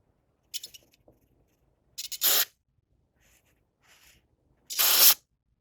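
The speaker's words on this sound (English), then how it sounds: "I'm going to spray some of the gum out into here just to clean it out a little more" Carburetor cleaner sprayed into a Troy-Bilt 2410 snow blower carburetor, two short hissing bursts a few seconds apart with faint tapping and handling noises in between, close up.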